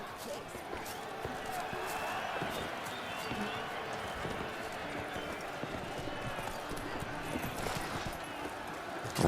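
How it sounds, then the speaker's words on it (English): A horse galloping past in The Witcher 3: Blood and Wine, its rapid hoofbeats clip-clopping steadily at middle distance beneath someone talking. "Almost got ran over by a guy on horse."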